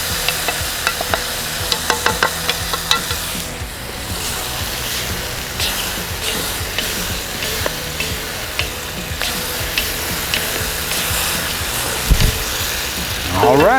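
A bison stir fry sizzles in the pan while slurry is stirred in, giving a steady loud fry with repeated scraping and clinking of the utensil against the pan throughout.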